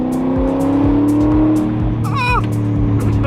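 A rebuilt supercar engine idles with a steady, strong drone and rises in a couple of brief revs, loud and close, with a few sharp clicks and a short squeaky sound over it.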